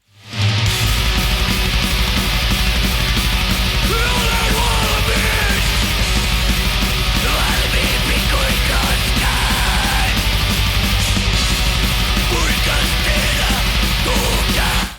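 Black metal plays as a dense, loud, continuous wall of distorted guitars, pounding drums and harsh shrieked vocals, sustained without pause throughout.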